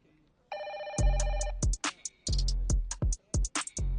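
A telephone rings in an office, a steady electronic trill from about half a second in, cut across by loud percussive thumps and voices talking over it.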